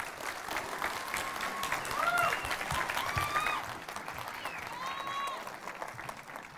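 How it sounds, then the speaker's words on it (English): Audience at the Cine Gear Expo trade show applauds in a steady, moderately quiet wash of clapping, with a few voices talking over it. "I noticed all of you didn't applaud that well for me"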